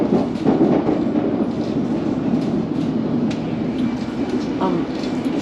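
A London Underground train pulls away onto the single-track Chalfont branch line, its wheels rumbling and clattering steadily close by with faint squeals.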